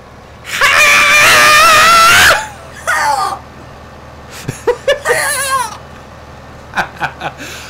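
A loud, drawn-out karate man's scream from a movie rings out, followed by shorter strained cries and a few sharp bursts.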